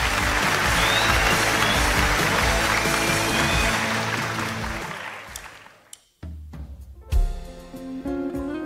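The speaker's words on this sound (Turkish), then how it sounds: "Alkışlar İbrahim için." O Ses Türkiye studio audience applauds contestant İbrahim, loud broadband clapping blended with band music that fades over several seconds before instruments start up again.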